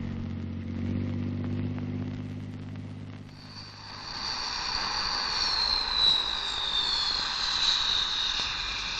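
Supply airplane serving Urengoy in the Yamal tundra, 1979: a low engine drone gives way to a rising high-pitched jet whine that swells loud and holds, with no voices.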